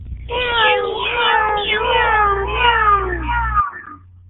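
A cat gives one long, drawn-out, wavering meow, loud and close, over a low steady hum, with no talk around it.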